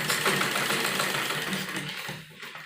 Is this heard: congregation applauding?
no